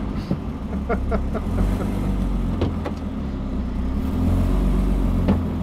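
A BMW E36 320i saloon with a six-cylinder engine drives along, a steady low engine drone with road rumble inside the cabin, a few small clicks and knocks over it.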